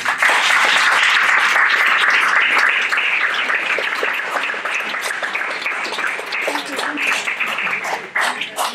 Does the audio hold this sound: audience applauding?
yes